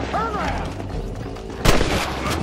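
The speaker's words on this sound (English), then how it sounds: "People are shooting some dude." Gunshots in the Western video game Red Dead Redemption: one loud sharp report stands out midway over game ambience, with softer scattered shots around it.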